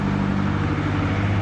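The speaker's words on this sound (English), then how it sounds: "Whatever these are, they got some mean-sounding diesels in them." Old diesel truck engines drone in a steady, loud, low rumble for a brief moment, with no voices.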